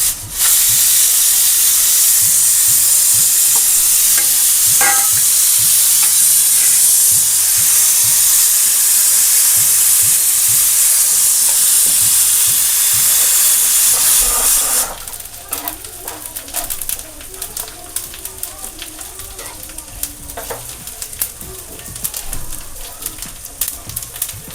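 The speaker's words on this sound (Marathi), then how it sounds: "आता आपण ह्याच्यातच गरम मसाले टाकून घेऊया." Roasted, blackened onion sizzles and hisses steadily in a pan with garam masala for a Marathi mutton rassa, loud and close at first, then quieter frying crackles after the ingredients go in.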